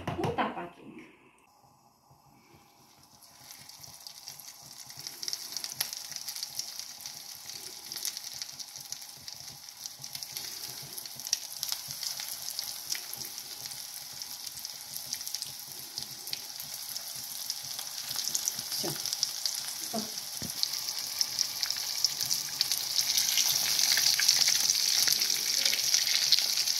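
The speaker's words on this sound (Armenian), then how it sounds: "իսկ հիմա կտապակենք, թողնում ենք, որպեսի յուղը մի քիչ հալվի ու տապակենք" Meat cutlets fry in melted oil in a pan, a steady bright sizzle that builds after a quiet start and grows louder toward the end, with occasional crackles and no talking.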